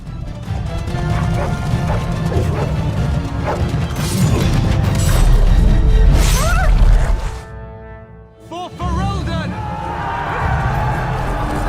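Several dogs bark and yip during a chaotic fight in the video game Dragon Age: Origins, mixed with loud crashes, thwacks and combat noise, then a brief lull before more barking and battle sounds.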